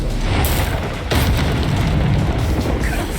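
The Confringo explosion spell from a Harry Potter video game goes off in two loud, close booming blasts, followed by a rolling, crackling rumble.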